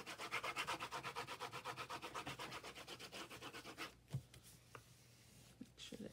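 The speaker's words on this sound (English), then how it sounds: "I just rub that off, and it turns clear when it gets dry." Brisk rhythmic rubbing as excess glue is worked off a handmade paper journal, about twenty quick back-and-forth strokes for four seconds, then stopping, leaving a few faint handling taps.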